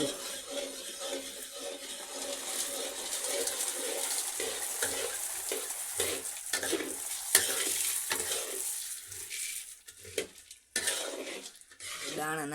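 Grains tip into a hot pan and sizzle steadily while a spoon stirs and knocks against the metal, with faint voices in the background of a home kitchen.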